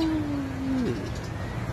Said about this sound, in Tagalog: So ayun, may mga ibon.